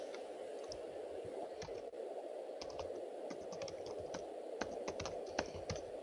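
Typing on a computer keyboard in a quiet office room, a steady run of light clicking keystrokes, close by with no talk.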